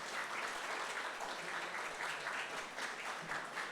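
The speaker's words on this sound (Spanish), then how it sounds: "así que le damos un fuerte aplauso" A church congregation gives a round of applause for a visiting guest, with steady, faint, distant clapping throughout and no talk over it.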